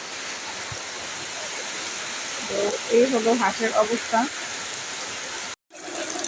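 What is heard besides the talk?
heavy rain outside a duck house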